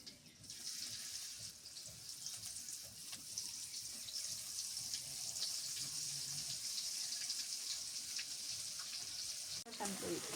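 Tomatoes frying in hot oil in a home kitchen pan, a steady broadband sizzle that runs continuously for the whole stretch at moderate level, with faint background noise and no clear speech.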